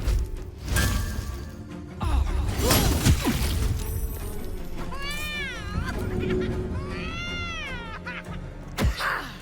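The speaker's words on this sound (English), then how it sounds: "I let the cat out. I don't know why it's still howling." A cat howls and yowls repeatedly in Baldur's Gate 3, long wavering cries rising and falling across the middle of the scene amid game ambience and occasional clatter, loud and close.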